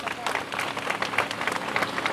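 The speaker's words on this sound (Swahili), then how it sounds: "Naomba tuwapigie makofi mengi sana." A crowd applauds at a road project inauguration in Kawe, a dense burst of many hands clapping in an uneven, rapid patter, with voices mixed in.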